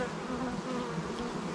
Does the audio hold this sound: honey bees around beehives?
yes